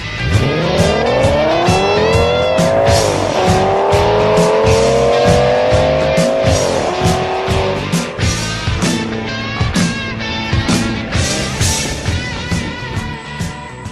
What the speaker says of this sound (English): Tonight's racing should definitely be a hot, action-packed evening of great Moon Speedway racing.